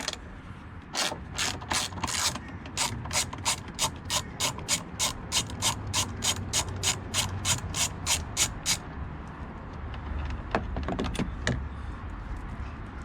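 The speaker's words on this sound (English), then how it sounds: "we're going to remove this 10mm bolt holding down this coolant tank" A ratchet clicks in a fast, steady run of sharp, close clicks while loosening a 10mm bolt that holds down the coolant tank on a 2021 Ram TRX 6.2L supercharged engine, with a few scattered clicks near the end.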